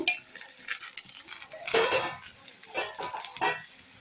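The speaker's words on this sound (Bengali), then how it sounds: "শিমগুলো দিয়ে এভাবে একটু নেড়ে নেব।" Flat beans stirred into a pan of fried Malabar spinach seeds, with soft scraping and clinking of a spatula against the pan over a light frying sizzle, in a few uneven bursts.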